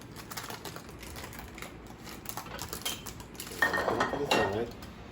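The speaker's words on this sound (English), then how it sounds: "And now what I'm going to do is take it out of the pan." Utensils scraping and clinking against a pan as a ratatouille omelet is lifted out, light tapping at first, then a louder metallic scrape and rattle near the end, close by.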